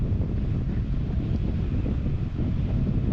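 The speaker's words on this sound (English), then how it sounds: "Just needed to feel the wind first, since it just suddenly picked up by probably 5 knots." Strong gusting wind buffets the microphone at Changi Beach in Singapore during a wingfoil race, a steady loud roar with faint water noise beneath and no voices.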